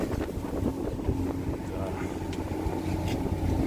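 Strong wind buffeting a fishing boat at sea off Tongyeong during winter hairtail fishing, a constant rumbling gusty roar over the microphone with low engine-like drone, and people speaking beneath it.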